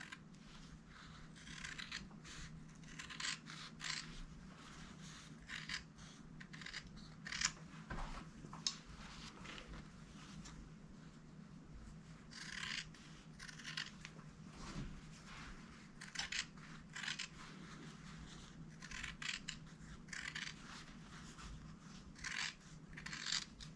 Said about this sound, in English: I'm holding my scissors at a little grade here, at an angle to sort of grade those seam allowances. Trim away from the corners.